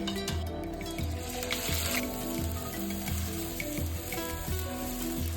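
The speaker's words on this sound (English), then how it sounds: "To the oil now goes our tomato paste and water." Steady sizzling and crackling of tomato paste and water hitting hot oil, with rhythmic clinks and taps throughout and no voices.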